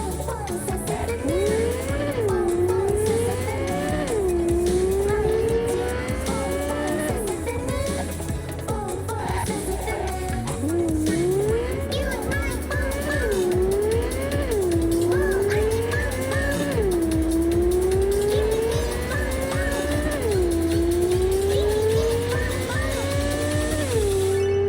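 Car racing in the video game Cyberpunk 2077, a loud engine revving up and down through repeated gear shifts with tire squeals and skids, continuous and close, with a voice speaking now and then.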